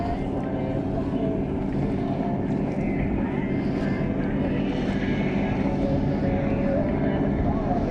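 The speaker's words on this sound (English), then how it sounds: "the boats are coming straight for me." Several pleasure boats approach across a lake, a steady loud engine drone and hull wash filling the whole stretch, with music carried faintly on the air.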